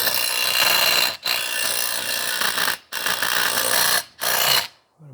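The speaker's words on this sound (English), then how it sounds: "I'm going to bolt it back down so it don't move." A power tool drives bolts through a 4x4 post bracket into concrete, loud sustained whirring bursts of about a second each separated by brief pauses, close and without talk.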